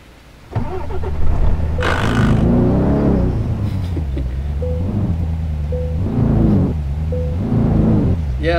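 A modded Mercedes AMG C63 in Euro Truck Simulator starts and revs, engine surging and settling in a few loud close swells with short tonal blips between.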